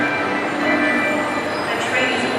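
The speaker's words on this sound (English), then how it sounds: "It's a train." A train hums and rumbles steadily at a station, with a faint metallic squeal riding over the continuous drone.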